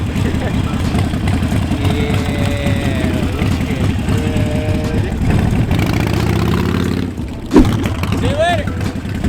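A Harley-Davidson motorcycle engine idles with a low throbbing rumble close by, while people talk over it; a brief sharp knock near the end.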